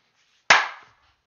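A single sharp clap from an acting class participant over Zoom, one crisp slap that decays quickly into quiet.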